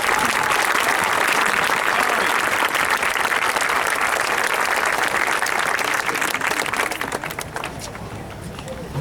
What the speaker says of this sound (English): Please give this committee a round of applause.